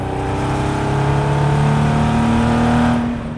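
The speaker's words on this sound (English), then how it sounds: "I will coordinate the exhaust note to our speed since I don't have a tach." A Chevy V8-powered 1971 Datsun 240Z roars at highway speed, its exhaust note a loud, steady drone that rises slightly in pitch partway through, heard close from inside the car.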